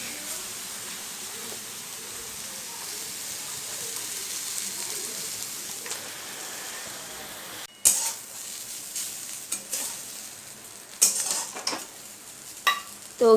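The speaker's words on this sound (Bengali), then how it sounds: "ঘি করলা ভাজাটা আমার হয়ে গেছে" Round slices of bitter gourd fry in ghee with a soft steady sizzle, then a few clinks of a utensil against the pan and louder stirring scrapes toward the end.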